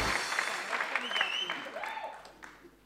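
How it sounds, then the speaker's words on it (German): An audience applauding comedian Nikita Miller at a comedy competition, a short burst of clapping that fades out, with a voice speaking over it. "Bitte einen riesigen Applaus für Nikita Miller."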